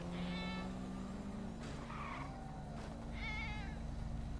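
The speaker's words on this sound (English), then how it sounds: "Oh, it's a meow." Stray kitten by a road meowing several times, a few short plaintive cries rising and falling, heard faintly beneath a steady engine drone from a nearby vehicle.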